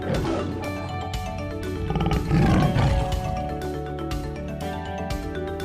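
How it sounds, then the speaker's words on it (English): A lion roar sound effect plays loud and close, a long rumbling growl swelling to a peak midway and then trailing off, with no speech. "your lion is ready to roar"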